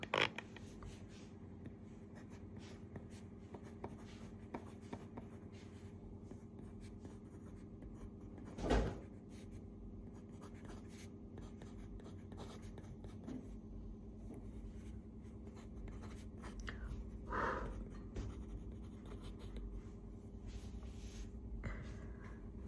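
Fountain pen with a fine nib writing on paper, faint close scratching strokes over a quiet room hum, with an occasional louder tap or rustle.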